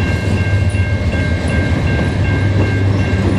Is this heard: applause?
no